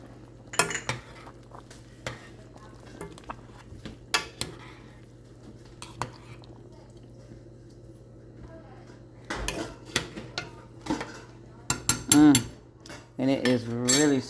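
A spoon stirs ketchup into a pot of Jamaican-style oxtails: a few isolated clinks, then a long quiet stretch, then a busy burst of metal scraping and clattering against the pot, close by.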